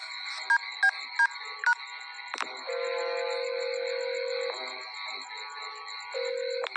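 Rhythmic electronic phone tones beep in a quick series, followed by a longer sustained ringing tone that repeats after a pause.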